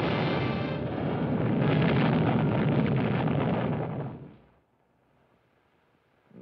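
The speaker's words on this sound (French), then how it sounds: "Ensuite, une explosion formidable." A huge, loud explosion roars as a dense, sustained rumbling blast for about four seconds, then cuts off into near silence before a faint sound returns at the end.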